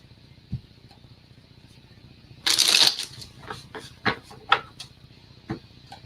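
Tarot cards riffled in a brief shuffle burst lasting about half a second, then several separate soft snaps and slaps as cards are pulled and laid down, close and fairly quiet against a low room hum.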